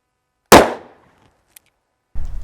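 .357 Magnum firing cast hollow point bullets: one sharp, loud report with a decaying ring, a faint tick, then the onset of another blast at the end.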